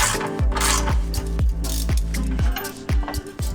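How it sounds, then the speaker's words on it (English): A ratchet wrench removes 14mm bolts on a Mitsubishi EVO VIII, fitting a new roll stopper, with a run of sharp clicking bursts about every half second, each followed by short ringing metallic tones, close and fairly loud. "now we'll remove the three 14mm bolts"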